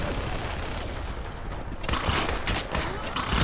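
Dense bursts of explosions and gunfire in the video game Fallout 4, loud and continuous, with a rumbling crackle that swells and grows harsher toward the end.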